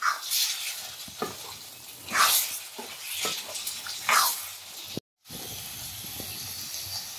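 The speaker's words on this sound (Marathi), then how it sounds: "सगळे पीसेस आपण ह्या मसाल्यामध्ये घालून घ्यायचे आणि ते पुन्हा एकत्र करून मोठ्या गॅसवर हलवून घ्यायचे" Chicken pieces for a dry black-masala sukka chicken cooked in ghee are stirred through the spice paste over a high flame, giving close hissing sizzle with a few louder steamy bursts and a brief cut to silence near the end.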